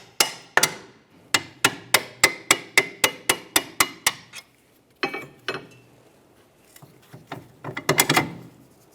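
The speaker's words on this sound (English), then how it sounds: "Now we'll tap this out of place." A hammer taps out a rear upper control arm bolt on a 2012-2018 Nissan Altima. About a dozen sharp metallic blows land in a steady rhythm, then after a pause come a few irregular knocks and a quicker burst, close and loud.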